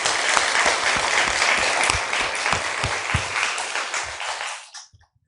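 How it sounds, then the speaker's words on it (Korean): A church congregation at an Easter worship service claps together in thick, even applause that holds for about four seconds, then cuts off sharply into near silence. "우리 부활하신 예수 그리스도 영광의 박수 올려드리겠습니다"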